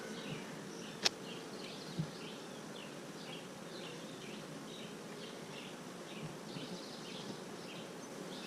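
Honey bees hum and buzz softly around an open hive during an inspection, with a couple of sharp knocks early on and faint rustling beneath.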